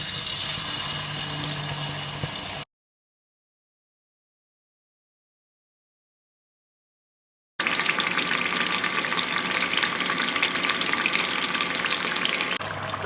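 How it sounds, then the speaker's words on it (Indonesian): Battered tempeh pieces crackle and sizzle in hot frying oil, a steady loud bubbling hiss that breaks off into silence partway through and then resumes just as strongly. "kita goreng yang inilah ya, kloter pertama. Minyaknya sudah siap, sudah panas, dan kita siap masuk satu persatu."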